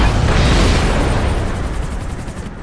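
A missile blast in the shooter game Max Payne 3 booms loud and close, its heavy rumble spreading and slowly fading over a few seconds with no voices.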